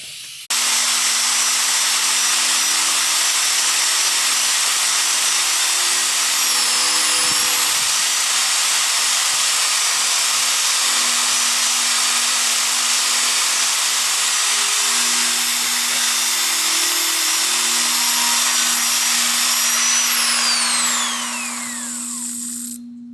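A power tool strips paint from the front bumper of a 1977 Camaro Z28, giving a loud, steady high-pitched whine with a ringing metallic tone that holds for about twenty seconds before spinning down at the end.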